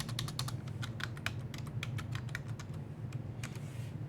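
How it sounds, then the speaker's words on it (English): Rapid, irregular clicking of keys on a computer keyboard during a Linux command-line lesson, close and crisp over a steady low hum, with no voices. "And then I'm gonna type this here, echo."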